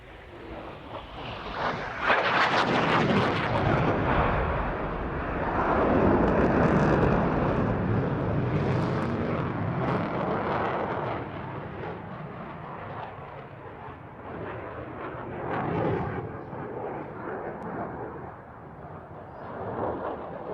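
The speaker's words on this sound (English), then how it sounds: "welcome Flight Lieutenant Noel Rees and the 2014 RAF Typhoon display" An RAF Typhoon jet fighter flies a 2014 air display, its rushing roar surging and fading in waves as it passes and turns, loud and near at first, then softer.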